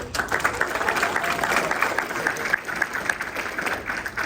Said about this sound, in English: can we give Sergeant Durrett a round of applause?